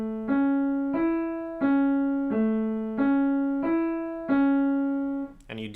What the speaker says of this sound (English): you break up the right hand one note at a time like this